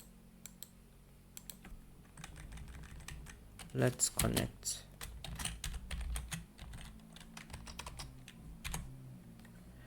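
Rapid keystrokes on a computer keyboard while text is entered into a presentation text box, with sparse clicks at first, then a dense, louder flurry in the middle and lighter tapping toward the end, and a voice speaking briefly.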